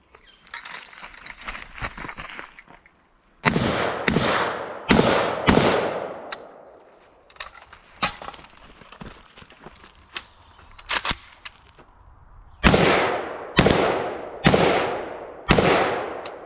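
AK-47 rifle fired outdoors during a test, sharp loud single shots spaced a second or so apart, with a few quick pairs and echoing decay after each report.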